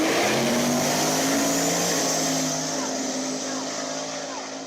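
A fast drag-racing car, a Malibu, roars past at full throttle, its engine tone holding high and then fading slightly as it pulls away down the track, loud and continuous with no talk.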